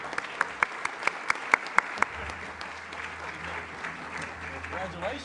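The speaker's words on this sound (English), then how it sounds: "let's give a round of applause to all of this year's winners." An audience at a plenary session applauds the year's winners, with a few sharp, distinct claps at first that merge into a steady wash of clapping while voices talk through it.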